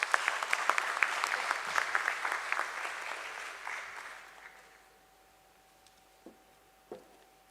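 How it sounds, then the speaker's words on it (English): Applause at a stock exchange listing ceremony for a precision engineering company: a full round of clapping from the room that tapers off midway, then quiet with a couple of faint clicks. "Can we have a round of applause for him?"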